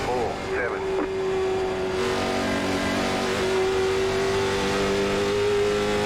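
Late Model Stock race car engine at Nashville in a racing video game: a loud, sustained, steady drone with a slight rise in pitch, under a voice talking.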